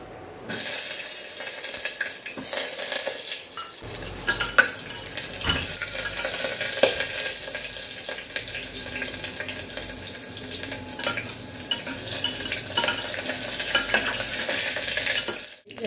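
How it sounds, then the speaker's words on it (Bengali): Potatoes fry in a pan with dried red chilli, whole cumin and coriander, a steady bright sizzle with stirring scrapes running throughout, close and fairly loud, with no voices. "এখানে আলুগুলো আমি ভেজে নিচ্ছি।"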